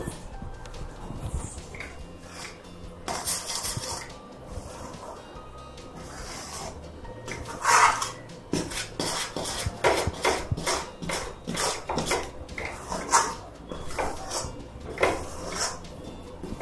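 Ground roasted sesame stirred into a thick gajak mixture in a pan on the stove: repeated scraping and knocking strokes of a spoon against the pan, irregular and close, with no talking.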